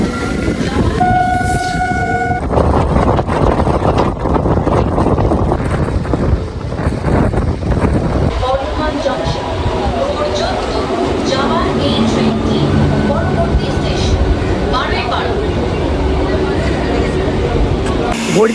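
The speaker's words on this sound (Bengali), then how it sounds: "আর এখন আমাদের ট্রেন ছেড়ে দিল ডানকুনি জাংশন রেলওয়ে স্টেশন থেকে" A passenger train departing Dankuni Junction near Kolkata rumbles along steadily with loud, continuous wheel and carriage noise, a brief horn-like tone near the start, and wind buffeting throughout.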